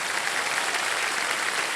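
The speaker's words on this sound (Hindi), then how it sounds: "और तालियां बज जाए इनके लिए।" Studio audience at the KBC quiz show giving sustained, even applause, a thick continuous wash of many hands clapping without a break.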